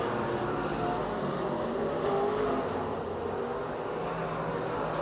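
Race cars battle side by side at Pennsylvania Motor Speedway in Pittsburgh, a steady dense engine roar heard from a distance with no distinct passes.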